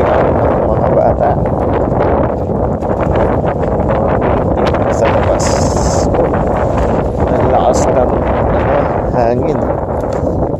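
Strong wind buffets the microphone outdoors near an air tunnel, a continuous loud rumbling roar with gusty fluctuations, while a person talks throughout.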